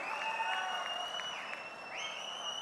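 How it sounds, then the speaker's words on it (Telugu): An audience applauds at the TDP Mahanadu 2025 political party gathering, with steady clapping under sustained high-pitched tones. "గట్టిగా చప్పట్లు కొట్టి మనస్ఫూర్తిగా అభినందించండి,"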